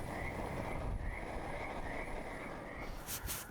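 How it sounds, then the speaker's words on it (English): Frogs croak in a dense, steady chorus, a rhythmic pulsing call repeating over a constant background of night noise, moderately distant. "we had the company of frogs all night long."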